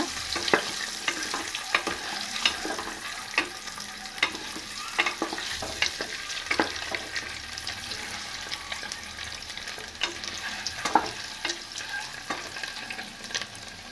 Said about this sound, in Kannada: ಒಂದು ಸ್ವಲ್ಪ ಖಾರದ ಪುಡಿ, ಸ್ವಲ್ಪ ಎಣ್ಣೆ ಚೆನ್ನಾಗಿ ಫ್ರೈ ಮಾಡ್ಕೊಳ್ಳೋಣ